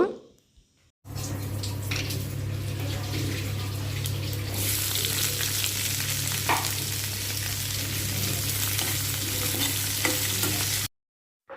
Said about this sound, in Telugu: ఎండు చేప ముక్కలు వేపించుకునేటప్పుడు చాలా జాగ్రత్తగా వేపించుకోవాలండి